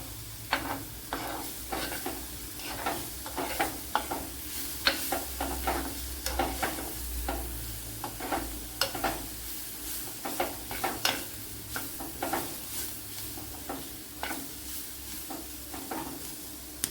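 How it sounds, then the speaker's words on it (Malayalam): Ground spices and garam masala sautéing in a pan, with frequent sharp scrapes and taps of a spoon over a continuous low sizzle, close and fairly even throughout. "ഈ പൊടി ഐറ്റങ്ങളെല്ലാം ഇട്ട് കൊടുത്ത് നല്ലപോലെ ഒന്ന് വഴറ്റിയെടുക്കാം."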